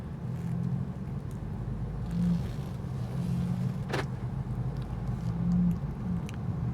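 Steady low engine rumble of a 2020 Mercedes-AMG CLA45 S 4MATIC+ Shooting Brake on the move, heard from inside, with a brief click partway through.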